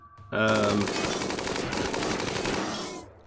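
Bursts of rapid automatic gunfire and shots crackle loudly and continuously for about three seconds during a RimWorld battle, opening after a brief tonal chime and fading out at the end.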